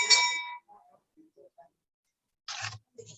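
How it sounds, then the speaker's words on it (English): A hand bell rung to open a club meeting, a bright ringing burst at the start fading out, followed by faint scattered clinks and a couple of short rustling knocks. "I'll just ring it again to call the meeting to order"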